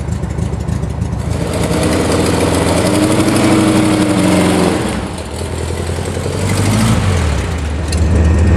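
A classic Volkswagen Karmann Ghia's engine drones loudly and steadily while driving, a buzzy air-cooled running note that rises and dips slightly with throttle, close and with no talk over it.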